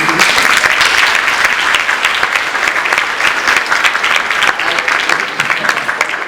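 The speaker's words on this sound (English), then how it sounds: "Can you clap for me?" Loud, sustained applause from a large audience at a 2017 graduation ceremony, dense clapping filling the hall steadily throughout with a faint crowd murmur beneath.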